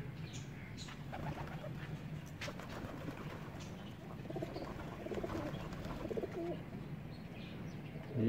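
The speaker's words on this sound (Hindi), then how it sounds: "तब तक आप ये कबूतर देख लें" Low, soft cooing of a pigeon kept in a coop, repeated several times at moderate distance over a faint steady background.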